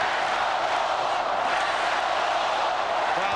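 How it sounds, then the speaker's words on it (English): A dense roar fills a basketball arena during the 1993 NBA Finals, Phoenix against Chicago, as the crowd chants let's go Bulls, a continuous loud wash of voices with no clear gaps. "Crowd chanting, let's go Bulls."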